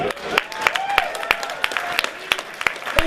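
Applause at a rhythm games convention panel, scattered sharp claps ringing out over a murmuring crowd, with a voice talking across the noise.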